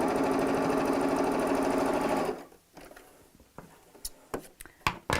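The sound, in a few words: sewing machine stitching patchwork bag pieces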